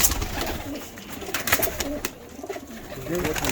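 Breeder pigeons coo faintly amid a dense, rustling background, with low throaty calls partly buried under steady noise and movement close by.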